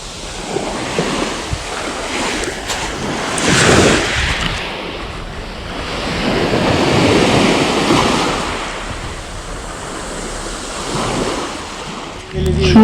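Sea waves wash onto the shore at night during squid fishing, a steady rushing surf with swelling surges and wind buffeting the microphone, loud and continuous throughout.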